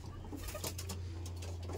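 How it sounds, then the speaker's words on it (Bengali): Brief, soft cooing from old Bengali Giribaz pigeons in a loft, several low calls over a constant electrical hum, with no talking. "এই দেখুন পায়রা দেখুন।"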